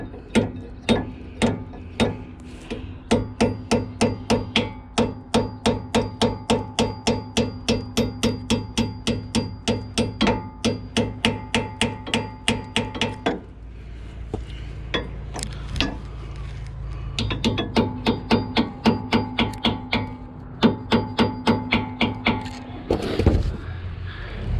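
Rear brake pads on an R35 GT-R are tapped into the caliper with a long run of quick, regular metallic taps, loud and close, then a brief pause before the tapping resumes.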